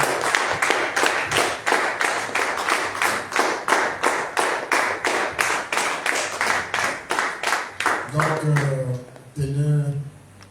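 A church congregation clapping steadily to praise the Lord, about twenty even, rhythmic claps at a brisk pace, close and loud, ending as a voice speaks and sings over the last moments.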